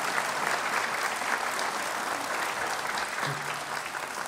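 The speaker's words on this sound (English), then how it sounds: "MSN graduates, you can give them a round of applause for allowing you into their doors" Nursing graduates and their audience at a college ceremony give a round of applause, a sustained, fairly loud wash of many hands clapping that holds steady and tapers slightly at the end.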